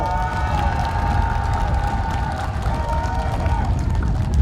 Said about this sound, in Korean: 저 친구들이 아까 제가 연설할 때보다 박수를 좀 더 크게 치는 것 같은데